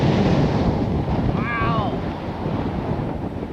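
Strong wind buffets the microphone on an open golf course during a match, a steady roaring rush throughout, with a brief exclamation from a voice partway through.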